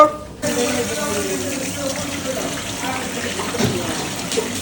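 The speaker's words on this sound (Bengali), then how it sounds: "এই যে জলে দিয়ে দিচ্ছি ধোয়া গেল" A 1 kg Padma hilsa fish is rinsed in water. After a brief quiet start, there is a close, steady gush and splash of running water.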